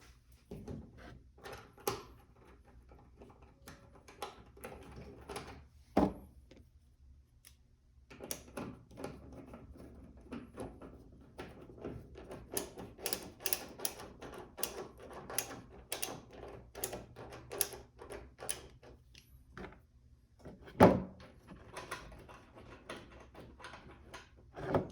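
Screws being driven back in during an LED headlight install on a Ram 1500 pickup: quiet, close mechanical clicks and ratcheting taps in irregular bursts, with a couple of louder knocks, mostly faint throughout.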